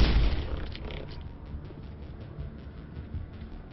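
A big explosion in the video game Mass Effect gives a heavy booming blast up front, then a rumbling, crackling tail that fades to a lower steady roar.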